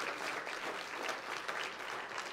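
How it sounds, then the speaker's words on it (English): Steady applause from a church congregation during a Sunday morning service, even and moderately loud throughout, with no voices on top. "Give these guys a hand clap this morning."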